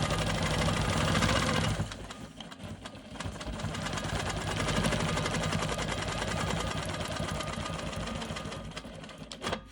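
Sewing machine stitching in the ditch on a diamond quilt block, a loud, steady mechanical whir that dips briefly early on and then runs continuously to the end.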